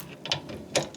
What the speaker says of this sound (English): just gonna take the ratchet now, 3/8, like I said before